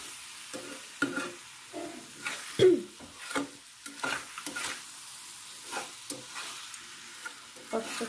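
Chicken curry sizzles in a pan while a spoon stirs it. Soft frying hiss continues underneath as scraping and clinking strokes come in an irregular rhythm, close and moderately quiet.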